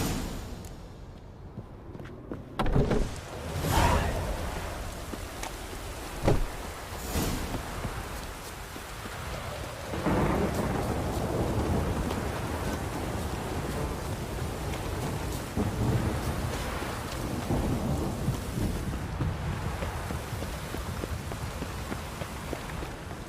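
Thunderstorm with rain in The Witcher 3, a steady rush of rainfall throughout with several loud thunder cracks and rolling rumbles early on, then continuous heavy rain; no speech.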